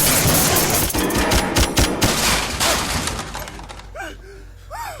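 Rapid gunfire from an action film scene in which a gunman fires down from above a lift, loud dense bursts of shots that fade out, followed by brief chirping sounds.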